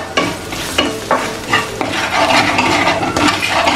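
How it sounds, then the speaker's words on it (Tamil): Green chili and garam masala are sautéed in a pan: a close, loud sizzle with a steady rhythm of spatula scrapes and stirs, roughly every half second, and no voices. "பச்சை வாசம் போகிற வரையும் லைட்டாக வதக்கிட்டு சிம்மில் வச்சு வதக்கிடுவேன்"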